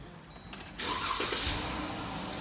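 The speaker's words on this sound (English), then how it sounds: "Now, once that's done, we can start the vehicle." A Jeep Grand Cherokee engine cranks and catches at close range, then settles into a steady, loud idle that fills the rest of the moment.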